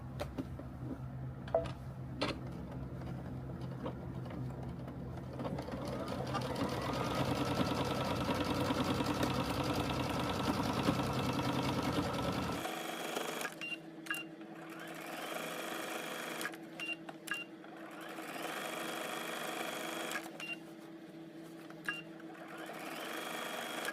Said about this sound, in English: you're going to stitch about 1/8 of an inch from that seam line